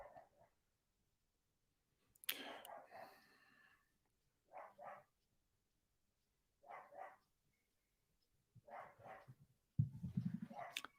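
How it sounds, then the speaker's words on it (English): A dog barking in short, faint bursts, spaced several seconds apart and heard from a distance in a quiet room. "You can hear my dog barking, but it's really going for it."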